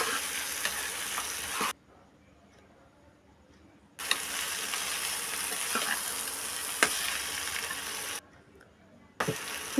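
Onions and brinjal sizzle in a hot pan as they are stirred together, the frying hiss cutting out in two silent gaps between bursts, with scraping clicks of the spoon against the pan.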